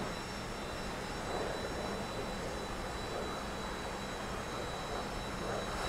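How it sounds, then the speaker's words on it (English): Steady whine and roar of a T-45 jet engine during flight in the DCS video game, continuous and even throughout, with no voices over it. "I hear the engine adjustment."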